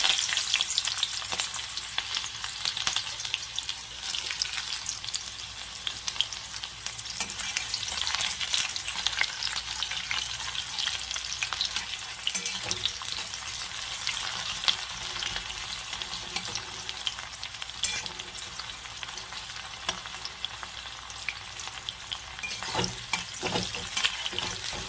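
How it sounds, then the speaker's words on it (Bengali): Onions frying in hot oil in a wok with a bay leaf, a dense, steady sizzle and crackle with occasional scraping clicks as they are stirred, close and without any talking. "পেঁয়াজটা মোটামুটি ভাজা হয়ে যাচ্ছে।"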